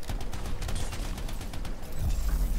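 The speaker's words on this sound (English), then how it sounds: "Wicked recoil on this gun." Rapid gunfire from a heavy-recoil gun in the video game Anthem, a dense continuous burst of shots that carries through the whole stretch, loud and close, with a low thump near the end.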